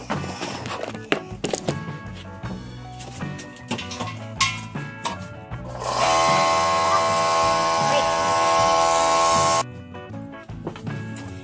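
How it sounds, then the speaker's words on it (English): A small air compressor charges up during a mini chopper tire install, running as a steady loud buzzing drone for about four seconds in the middle, after clattering workshop handling noises and before falling silent. "I think I need to charge my air compressor up."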